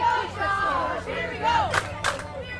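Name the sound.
crowd cheering at a baseball game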